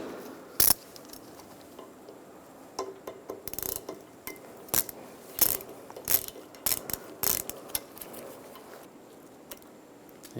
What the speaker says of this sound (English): Take this screw out.